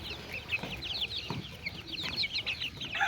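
Young desi chicks eating from a hand, making rapid high cheeping and soft clucking calls close by over a light background hiss, a lively overlapping chatter with a few low knocks.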